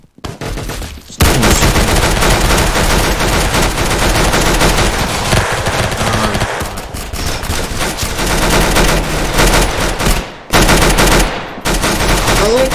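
Rapid automatic gunfire in the online shooter game Arsenal, loud and nearly continuous bursts that pause briefly a couple of times, with dense clattering shots filling the scene.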